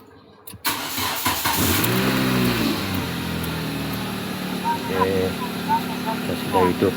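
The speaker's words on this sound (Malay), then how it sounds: "Kita sudah hidupkan kereta dia guys, sudah hidupkan kereta." A car engine idles steadily after a sharp start, its low hum filling the space as someone talks over it and faint chirps sound in the background.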